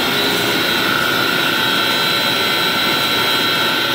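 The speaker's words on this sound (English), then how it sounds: "exercising the motors. I've got them at full blast." Six 50-horsepower water slide pump motors run at full blast, a loud, constant roaring whine with steady tonal hum, close and unbroken, with no talking.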